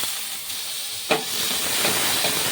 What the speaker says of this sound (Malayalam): ഇഞ്ചി വെളുത്തുള്ളി പച്ചമുളക് പേസ്റ്റ് ഇടാം പച്ചമണം മാറുന്നവരെ ഒന്ന് ഇളക്കി കൊടുക്കാം